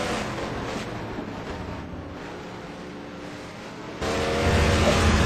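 A racing video game car engine drones steadily at the Algarve circuit, then surges louder and higher as it accelerates near the end, with no voices over it.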